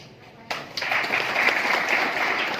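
Audience at a public speech breaks into applause, a dense bed of clapping that starts abruptly after a quiet moment and continues steadily at moderate level.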